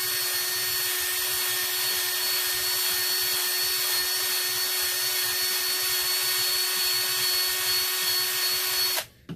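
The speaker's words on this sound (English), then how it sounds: "So I'm having to use my hand drill to go around." A small handheld rotary drill whines steadily while detailing the edge of a leather piece, a continuous close motor hum with faint rubbing, cutting off abruptly at the end.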